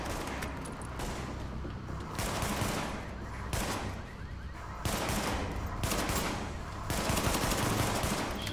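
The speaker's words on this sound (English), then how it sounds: "Hey, finally some fucking covering fire." Covering gunfire in The Division video game, loud bursts of automatic rifle fire in several spaced volleys with short gaps between them, close and sharp.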